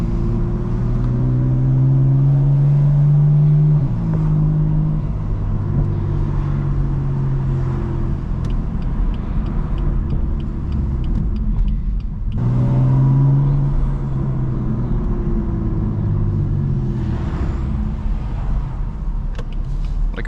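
BMW M4 F82 driven through city traffic, a loud close engine drone rising and falling through gear changes, with two clear revving climbs over a steady rumble and no voice.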